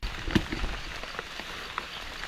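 Rain falls in a forest during mushroom picking on a hillside, a steady soft patter with a few louder drops landing close by, fairly quiet throughout.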